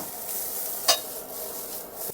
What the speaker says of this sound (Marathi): फ्राय करून घेऊ आपण.